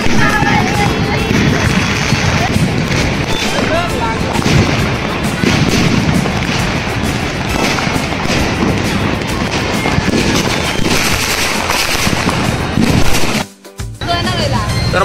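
Diwali firecrackers burst in a loud, dense, continuous barrage of crackles and booms, with voices faintly mixed in, before a brief sudden drop near the end.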